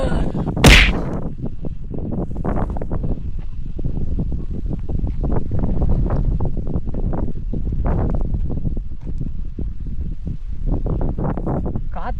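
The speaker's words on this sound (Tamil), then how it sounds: "காற்று ரொம்ப ஹெவியாக அடிக்குது." Strong wind buffets a microphone at Munimala hilltop viewpoint in Attappadi, Kerala, roaring loud and continuous with gusty swells throughout, with no speech.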